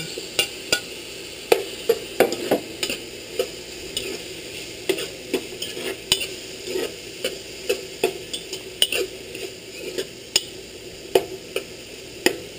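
Onion and tomato sauté in a pan for chicken afritada, a steady soft sizzle with a spoon or spatula clicking and scraping against the pan in irregular, close taps.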